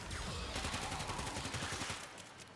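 The Phage, a disease shotgun in the video game Warframe, fires in a rapid, steady stream of buzzing beam bursts, loud and close, before cutting off abruptly.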